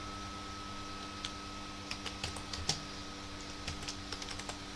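Typing on a computer keyboard, a faint quick burst of clustered key clicks, then a short pause and another run of taps, over a quiet steady hum with no voices.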